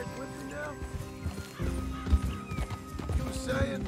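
Hooves clip-clop rhythmically as a horse moves through Red Dead Redemption 2, with a loud neigh breaking in near the end, layered under game character dialogue and ambient sound.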